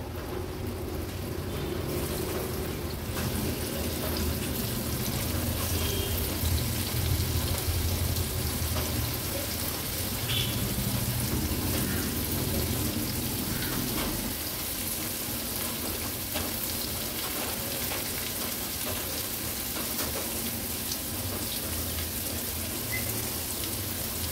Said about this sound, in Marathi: आपण जशी कारली फ्राय करतो ना, तशाच या कंटोळ्याच्या चकत्या पण आपण तळून घेणार आहोत।